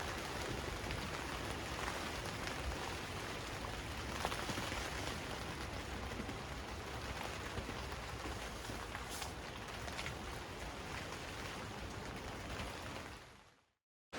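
Steady, dense rain pattering on a surface, continuous and fairly loud throughout, then cutting off abruptly at the very end.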